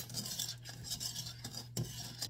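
Cinnamon sugar being stirred for churro cookies, a steady scratchy scraping of spoon against bowl with a low hum underneath, close and fairly quiet.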